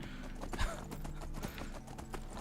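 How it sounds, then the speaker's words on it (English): Horse hooves clip-clop in a steady rhythm while riding in Skyrim Anniversary Edition, close and clear over a dense game soundscape, with a brief whinny-like accent and faint voice underneath. "I'm riding the horse."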